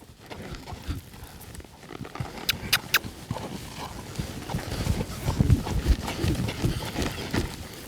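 A ranch horse's hooves shuffle and thud on dirt as it is backed up a few steps, irregular soft clops and scuffs close by, with some rustling and no talking.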